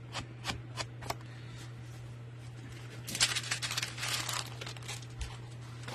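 Waxed paper, used as faux vellum or glassine, is crumpled up close, a few sharp isolated crinkles and taps at first, then a denser, louder rustling crackle.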